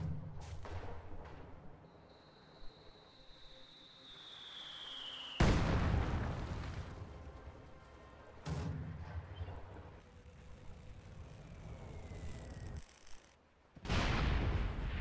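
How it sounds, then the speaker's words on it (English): A Stuka dive bomber in Company of Heroes 2 wails with a falling siren whine over battlefield rumble, followed by heavy, loud explosions and artillery booms. "I heard a Stuka."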